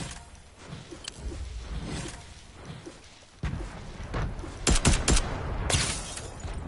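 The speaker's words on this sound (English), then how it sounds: "See that nade that I just hit?" Grenade blast and bursts of gunfire in a PS4 shooter, scattered shots and a sudden boom followed by sharp rapid cracks, fairly loud and near.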